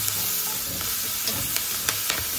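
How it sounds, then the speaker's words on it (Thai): Onions sizzle in butter in a pot, a steady close frying hiss with occasional stirring scrapes and small pops, no voices over it. "เอาหอมหัวใหญ่ลงมาผัดก่อนค่ะ"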